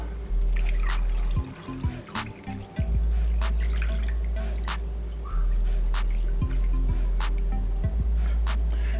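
Marinade drips and trickles over smoked salmon in close, wet splashes and dribbles, with a few handling knocks and a steady low hum underneath.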